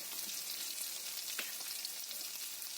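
Ginger and tomato with spices frying in a pan, giving a steady, close crackling sizzle throughout with a brief louder pop midway.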